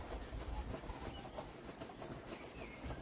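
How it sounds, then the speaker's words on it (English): A rag rubs over a Lucas magneto from a Lister B engine in quick, repeated scrubbing strokes, a faint, close, dry swishing that keeps an even back-and-forth rhythm with no talk. "Wipe it down with a rag."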